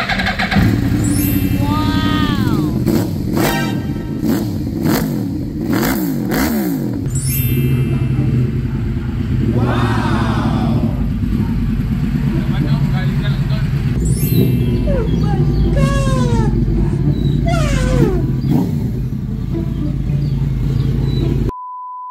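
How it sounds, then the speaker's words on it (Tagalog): A 2013 Yamaha R1 crossplane sport bike with traction control idles and is revved repeatedly. Loud, close throttle blips rise and fall in several bursts over a rumbling idle, with occasional voices. "Ito yung tinatawag na Yamaha R1 na Monster. Yan, no? So ginaya yan doon. Sound check natin syempre."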